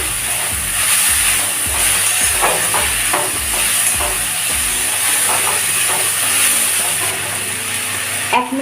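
Water spinach being stir-fried with a little tomato sauce in a pan, with a steady loud hiss and sizzle and scattered scraping stirs throughout, under faint background music.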